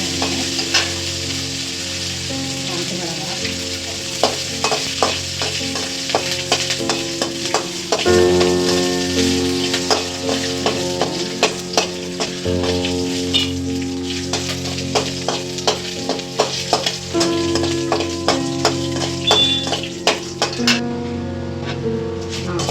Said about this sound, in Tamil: அடுத்து வரமிளகாய் பச்ச வரமிளகாய் போட்டால் பக்கம் தீஞ்சிடும் நல்லா கருவேப்பிலை போட்டுருவோம் இஞ்சி போட்டால் நல்லா இருக்கும்